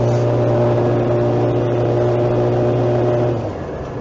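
A new motorcycle engine idles loud and close with a steady droning hum, then its pitch drops and fades over the final half second.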